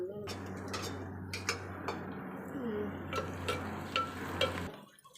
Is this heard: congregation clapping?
no